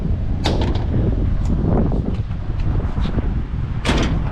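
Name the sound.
Honda car hood closing and latching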